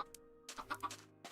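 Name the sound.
chicken clucking in the video game Minecraft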